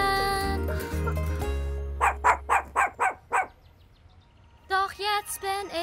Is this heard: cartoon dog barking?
yes